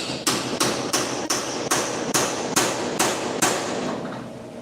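A hammer strikes a chisel against a weld on a car, eight sharp metallic blows at a steady, slightly slowing rhythm, close and loud with short ringing decay between hits, no talking.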